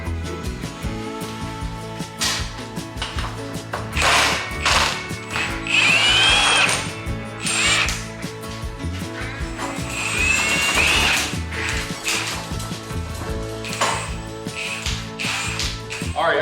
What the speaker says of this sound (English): we're gonna be using the Milwaukee 1/2-inch impact wrench to get it done